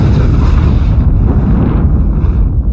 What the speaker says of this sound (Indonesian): Alhasil ledakan pun terjadi.